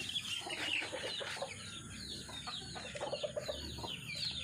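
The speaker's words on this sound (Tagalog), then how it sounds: "Ang mga sisiw." Chicks cheep in a rural yard, a busy cluster of high, fast peeping calls repeating close by, with soft clucking from older fowl underneath.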